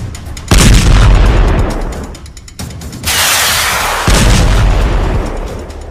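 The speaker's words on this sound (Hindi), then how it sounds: "धमाके ड्रोन बम के हैं।" Drone bombs explode at the Fujairah oil site in the UAE, loud booming blasts that break into a long, harsh roar with several sharp new bursts over six seconds.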